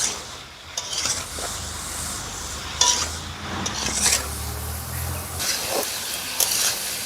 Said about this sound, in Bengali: পরিমাণ মতো লবণ হলুদ দিয়ে ভালোভাবে ঢেকে সবজিগুলো আমি ভেজে নেবো